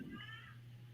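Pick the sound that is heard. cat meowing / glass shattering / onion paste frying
cat meowing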